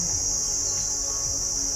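Loud cicadas buzz in nature as a dense, steady, high-pitched drone that fills the whole moment, with faint bird chirps beneath and no talk.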